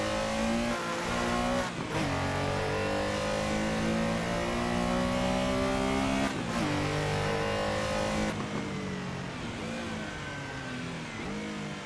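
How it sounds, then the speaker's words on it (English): A Porsche built as a Lego Speed Champions 75888 set, driven in a VR racing simulator: a loud engine rumbles and revs up through the gears with sharp shifts, joined by brake squeal while turning in. "Brake squealing as you're turning in second. Oh, there's that distinctive Porsche rumble."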